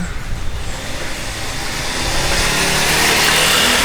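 A small 125cc motorcycle engine drones steadily, its noise building and growing louder toward the end as it seems to approach or rev.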